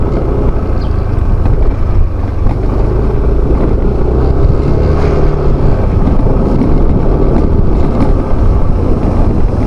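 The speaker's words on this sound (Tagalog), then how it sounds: "Lakas lang ang agos dito, oh." Fast water rushes loudly and continuously through an irrigation channel used as a bathing spot, a dense close roar with no pauses.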